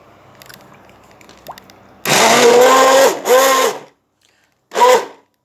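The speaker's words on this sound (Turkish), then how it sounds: "Sütle inciri buluşturduktan sonra yapılacak tek işlem blenderdan geçirmek" A blender blending milk and figs whirs loudly in a couple of seconds-long bursts, stopping and restarting, with a short final pulse after a pause.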